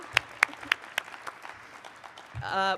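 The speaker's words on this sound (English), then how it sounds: "Let's give a big round of applause for those guys for sponsoring today's session." Scattered claps from a conference audience thanking the sponsors of a wine-growing session, a handful of separate claps in the first second before a voice begins speaking.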